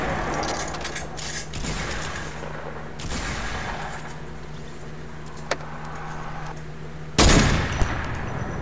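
Gunfire in a Fortnite match, a dense, loud stream of game audio with broadband bursts and a sharp, heavy blast near the end.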